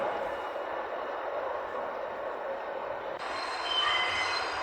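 A fast futuristic train in a Roblox game rushes past with a steady roaring rumble and a rising high-pitched whine, loud and continuous throughout.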